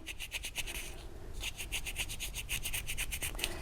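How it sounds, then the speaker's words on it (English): Colour being rubbed onto wet patterned anodized aluminum gives quick, rhythmic scrubbing strokes in short bursts, close and fairly quiet, with a brief pause partway through and no talking. "you can also kind of rub a little bit more while it's still somewhat wet here"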